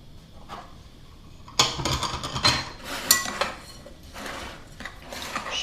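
Flour, yeast, salt and oat flakes are mixed in a bowl for oat, apple and raisin muffins, with a quiet start giving way to bursts of clinking and scraping utensil strokes against the bowl.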